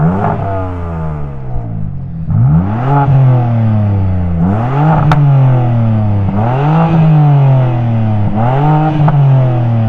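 A BMW M4 engine revs hard in repeated bursts, each climbing and falling in a loud, close, throaty blare with a brief pause between pulls, heard alone without talk.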